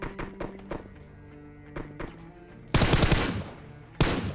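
Bursts of gunfire from an M4 rifle and a shotgun in a mobile battle royale game, starting as scattered thuds and single shots, then a loud sustained burst of rapid fire, a short pause, and another sharp burst.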